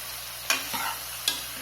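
Chicken kuzhambu masala with salt, chilli powder and turmeric stirred in a pan: a low steady sizzle broken by two distinct scraping spoon strokes, close and moderately loud, with no talking.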